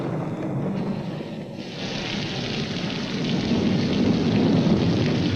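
Steady, dense rain pours in a jungle with a low thunder rumble underneath. The wash swells slightly louder toward the end and continues without a break.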